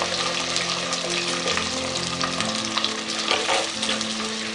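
Whole onions fry in hot oil for a village-style murrel fish curry, a loud, continuous close-up sizzle with light stirring and no voices.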